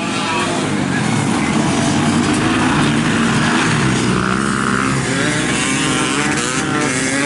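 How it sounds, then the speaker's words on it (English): Solo flat track speedway motorcycles race at Rosebank Speedway, a dense, continuous engine roar from several bikes, loud throughout, with a race commentator talking over it. "That is my Al Hoagie, that bike just stands up slightly as he comes off the turn"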